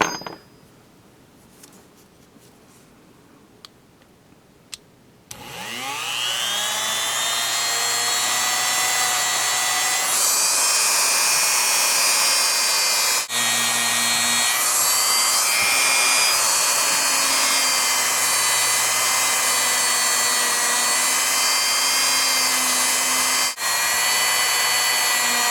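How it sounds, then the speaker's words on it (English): A Dremel rotary tool polishing the small plunger of a Smith & Wesson third-generation pistol's safety lever: after a quiet start, a loud, close, steady high-pitched whine switches on and runs continuously, with brief pitch dips as it touches the metal. "We're going to just polish that with the Dremel just to make it perfectly shiny."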